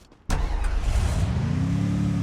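A jeep engine in the Free Fire video game turns over abruptly after a quiet moment and settles into a loud, steady idle rumble.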